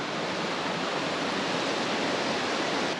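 A rushing river in Colorado's Chicago Basin, a dense, steady broadband roar of water, close and continuous with no voices.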